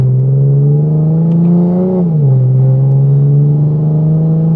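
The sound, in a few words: MK5 Toyota Supra with custom MK4 Supra exhaust revving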